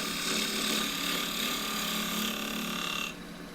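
A spindle gouge cuts a small bark-rimmed bowl of firewood-grade timber spinning on a wood lathe, giving a continuous close hissing scrape with a steady rubbing texture that eases off near the end.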